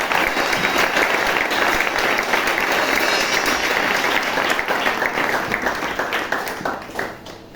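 Church congregation applauding loudly and continuously for a deacon about to preach, a full, dense roar of clapping that tapers off in the final second.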